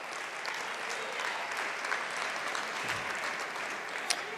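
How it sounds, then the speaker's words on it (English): A banquet audience at a university academic and athletics awards dinner gives student athletes a sustained round of applause, moderately distant and even, with an occasional sharper clap near the end. "let's give them a round of applause for that prestigious honor"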